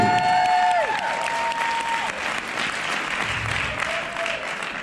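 Audience applause for a speaker at a Young Living On the Grow Tour event, a steady roomful of clapping with a few cheers, fairly close, holding evenly before easing slightly.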